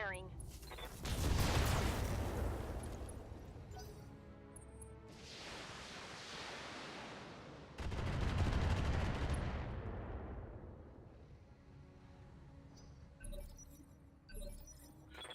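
Heavy mech weapons in a BattleTech Flashpoint career fight unleash two long, roaring volleys of rapid fire, each swelling loud and then trailing off, with quieter mechanical clatter between them.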